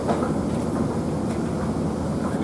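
A southbound passenger train to Boston heard as a loud, steady low rumble with continuous rolling noise and no clear breaks.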